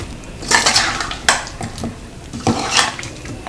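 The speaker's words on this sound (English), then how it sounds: "So you're going to go under and just mix this gently and evenly so that it's distributed well." A spoon scrapes and clinks against a bowl while paneer cubes are gently folded through yogurt and ginger garlic paste, giving a few sharp knocks among soft, wet stirring sounds, close up with no talking.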